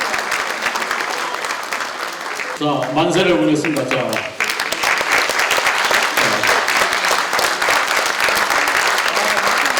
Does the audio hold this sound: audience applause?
yes